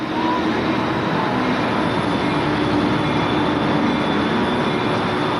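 A train carrying nuclear warheads rolls toward a base where protesters have gathered, giving off a steady, loud, unbroken rumble with no distinct clacks or horn.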